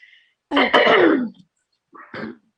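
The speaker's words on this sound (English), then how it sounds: "let me clear my throat" One person clears their throat in a rough, gravelly burst, followed a moment later by a shorter, softer throat clear.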